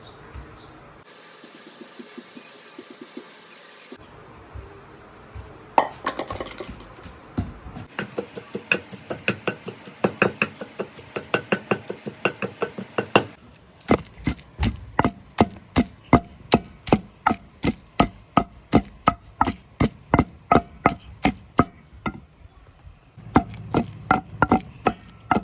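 Green chillies and tamarind crushed for tomato chutney, a long run of rhythmic pounding or grinding knocks, sometimes scattered and sometimes steady and rapid, with a few pauses and patches of rough grinding noise.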